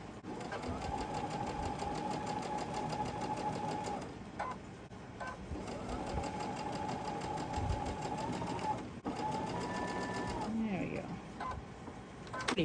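Sewing machine stitching quilt blocks, a close steady mechanical whir running in long stretches with brief pauses between seams, and a voice talking faintly underneath.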